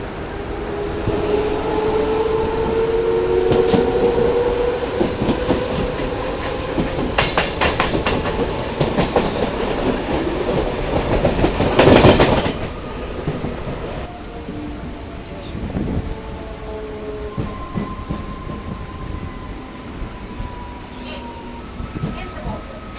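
A Howrah to Bandel local train pulls out of Uttarpara station in heavy rain, wheels clattering and squealing in a loud, continuous rumble from on board, with people talking beneath it.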